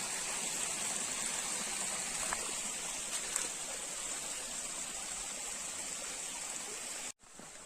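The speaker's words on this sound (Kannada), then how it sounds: "ನೀರು ನಮ್ಮ ತೋಟದ ಒಳಗಡೆಯಿಂದ ಹೊರಗಡೆ ಹೋಗುದು ನೋಡಿ ನೀರು ನೋಡ್ಲಿಕ್ಕೆ ಎಷ್ಟು ಚೆನ್ನಾಗಿದೆ ಹರಿತಾ ಹೋಗ್ತಾ ಉಂಟು" A stream of water flows out of a garden plantation in the rainy season, a steady, continuous rushing that stays even throughout and then cuts off abruptly near the end.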